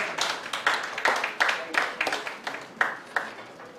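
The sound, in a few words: audience applause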